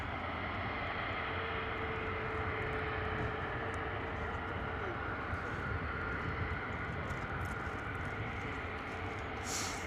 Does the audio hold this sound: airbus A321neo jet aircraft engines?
yes